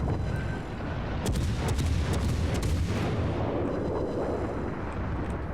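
Naval gunfire and torpedo launch in the World of Warships video game, engaging a Bismarck battleship: a cluster of sharp booms and cracking shots over a dense, continuous rumble of battle noise, loud and close, with no talking.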